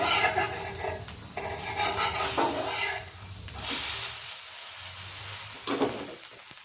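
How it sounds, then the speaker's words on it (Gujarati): Sabudana and samba dosa sizzling on a hot griddle, a steady close frying hiss with crackling bursts throughout, no talk. "ઢોસાને ચડવા દઈશું"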